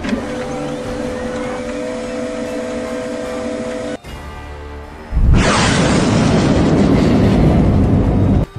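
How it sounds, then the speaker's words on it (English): Video-game turrets and missiles firing: a steady mechanical drone with tonal hum gives way, after a brief drop, to a loud, dense broadband roar of launching and blasting that fills the rest of the clip, with no speech. "Activate the missiles."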